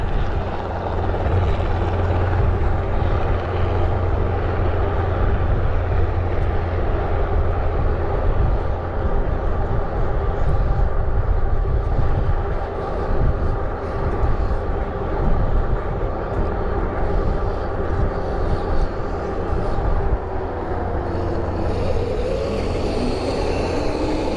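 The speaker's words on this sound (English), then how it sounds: "there's a helicopter basically hovering about 3 feet above the ground and then landing and then going back up 3 feet and landing" A helicopter hovers a few feet above the ground near a river trail, then lands and lifts off again, its loud continuous rotor thump and engine roar filling the whole stretch, with a pitch shift near the end.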